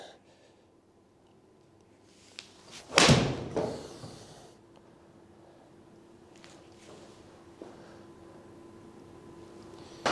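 A golf club with mud in its grooves chips a dry ball, a single sharp close thwack followed by faint rustling and a quiet steady background hum.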